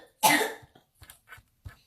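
A person nearby gives one loud, harsh cough followed by several short, softer throat-clearing coughs in an otherwise quiet indoor room.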